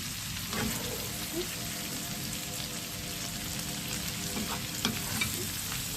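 Alexandrian-style liver with peppers sizzling steadily in a pan at home, a continuous close crackle and hiss with small pops throughout, no talking.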